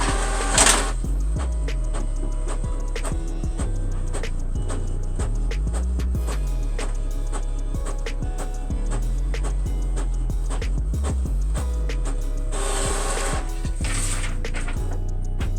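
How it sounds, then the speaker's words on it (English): An Epson EcoTank 2850 printer printing a test page, a loud, continuous mechanical whir with rhythmic rising and falling carriage sweeps and clicks, plus a brief louder rattle near the end. "So we're going to print a page."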